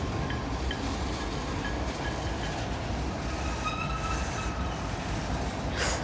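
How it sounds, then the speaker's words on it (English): A loud Norfolk Southern freight train passing close by, with a steady heavy rumble of wheels and cars on the rails and faint squealing tones, continuous throughout. "Hear another train"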